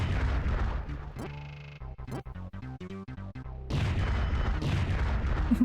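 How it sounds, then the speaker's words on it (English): Cartoonish bomb explosions from a Bomberman video game burst loudly in quick succession, with bright musical chiptune notes between the blasts and no talking. "I love the explosion noises."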